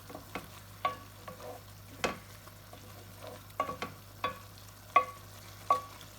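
A spoon scrapes and stirs a potato mixture with green chili and amchur powder in a pan, producing irregular close knocks and scrapes a few times per second over a faint low sizzle, no speech.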